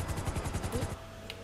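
A short rattling burst of repeated gunshots in GTA 5, loud and rapid for under a second before dropping to a quieter background hum.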